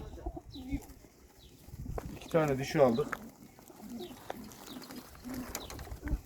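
Pigeons coo in a loft, a soft burst of cooing rising mid-clip, with birds calling around. Someone talks over them throughout.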